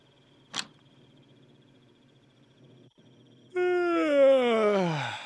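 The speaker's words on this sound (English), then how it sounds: "that yawning is a little bit aggravating" A guest character yawns in the hotel management game Hotel Business Simulator: one long, loud, drawn-out yawn whose pitch slides downward, preceded by a brief sharp click and faint room hum.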